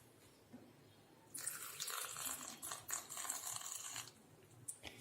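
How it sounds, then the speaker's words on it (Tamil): Water from a container pours into a blender jar holding ice cubes for cucumber lemon juice, a close splashing and trickling stream lasting a few seconds, with a brief pause and a small final splash. "இப்போ நம்ம வந்து தண்ணி ஊற்றியாச்சு."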